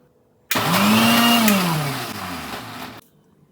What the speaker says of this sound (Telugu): అండ్ కారం వేసుకొని గ్రైండ్ చేసుకోవాలి. మరి మెత్తగా చేసేయకూడదు, కొంచెం బరకగా చేయాలి.